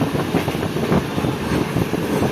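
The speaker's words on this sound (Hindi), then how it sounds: "लेकिन अब ब्रेक लगना शुरू हो चुके हैं।" The Karachi Express, running from Karachi to Khanewal, brakes and slows, giving a loud, continuous low rumble of wheels and carriages heard from inside the train.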